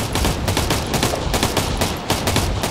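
Gunfire in Operation Flashpoint: Red River, a dense, continuous barrage of rapid automatic shots that overlap one another at close range, with no speech.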